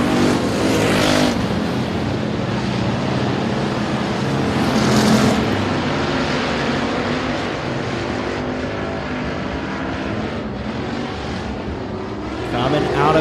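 Race cars roar around a speedway oval during an opening-weekend race, engine noise swelling and fading continuously as cars pass, with an announcer's voice over the top.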